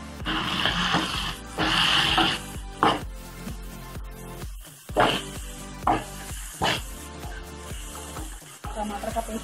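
Spices and tomato paste fry in a pan for restaurant-style chole, giving a steady close sizzle with bursts of stirring and scraping through the clip, no talk.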